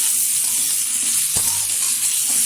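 Fried potatoes with cashews and raisins being stirred in a pan, a steady oil sizzle running throughout with one sharp scrape or knock of the spoon partway through, close up and without talk.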